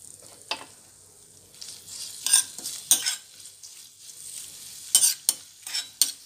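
Paneer bhurji fried rice frying in a pan, with crushed garlic just added, under a steady soft sizzle broken by several sharp, close spatula scrapes and stirs.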